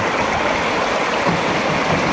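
River rapids rush over rocks during a rafting run, a loud, close, continuous roar of churning whitewater with no voices.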